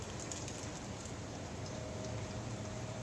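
Steady rain falls outdoors, a dense continuous hiss of drops at even loudness with no pauses and no voices.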